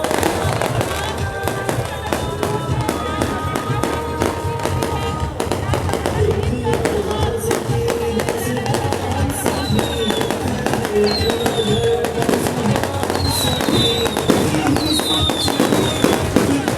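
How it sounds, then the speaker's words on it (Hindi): A fireworks display at a Pakistan Peoples Party celebration in Karachi crackles and bangs continuously, dense pops and whistling rockets rising over a crowd, with a voice talking over the noise. "अब शानदार आतिशबाजी का मुजाहरा यहाँ पर किया जा रहा है।"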